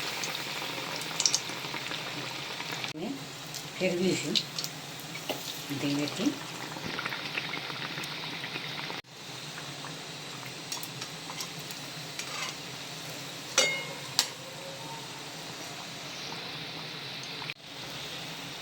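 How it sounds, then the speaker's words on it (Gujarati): Bread pakoda slices of bread stuffed with spiced potato masala and coated in gram flour batter fry in hot oil with a steady crackling sizzle throughout, while a voice talks briefly over it. "હવે તેને તળી દઈશું."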